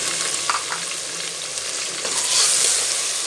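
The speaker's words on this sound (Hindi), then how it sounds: "2 से 3 मिनट अच्छे से भून लेना है हमने।" Three potatoes frying with two spoonfuls of ginger garlic paste in a pan, a steady close sizzle with a few soft stirring scrapes and a brighter hiss swelling toward the end.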